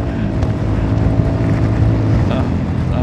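A car engine that struggles to pull through its gears, with a loud, close, continuous rumble running unbroken for a few seconds under some wind noise.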